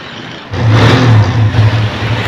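A Suzuki GS 150 motorcycle engine idles, then is revved up close and loud, holding a rough, throbbing roar for nearly two seconds.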